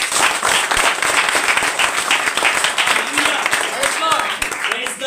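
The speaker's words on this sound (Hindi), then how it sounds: "तो आप खुदा के लिए एक बार जोरदार तालियां बजाइए" A congregation at a Hindi prayer service breaks into loud, sustained clapping, dense and close, with faint voices underneath near the end.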